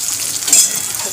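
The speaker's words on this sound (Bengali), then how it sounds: "আলু ভাজা ভাজছি" Sliced potatoes frying in a pan for khichuri make a steady, close hiss of sizzling oil with small crackles throughout, and no voices.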